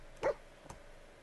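A dog companion in Fallout 4 gives a short, high whimpering yelp, then a fainter second whine about half a second later, both close and brief over a quiet game background.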